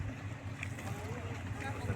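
A passenger boat bound for Vrgada island hums steadily, a low engine drone mixed with wind noise across the deck, with no clear talk.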